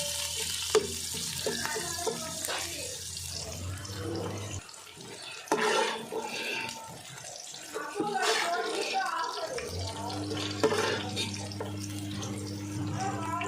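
Tap water running steadily into a vessel, a continuous broadband hiss that pauses briefly and then resumes, heard close with a voice speaking over parts of it.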